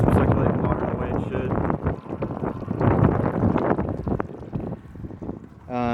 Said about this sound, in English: Engine is on right now.